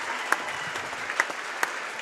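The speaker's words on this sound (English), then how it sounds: "Let's give them another round of applause." A crowd applauds a 1996 Class A state champion baseball team at a ballgame, a brief burst of clapping with a few sharper claps standing out.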